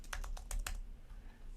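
A quick burst of keystrokes clatters on a computer keyboard, about six taps close together, then stops into near silence.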